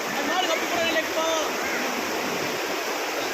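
Flood water rushing through a village at Kalathuru, a loud, continuous roaring wash of moving water with faint voices underneath.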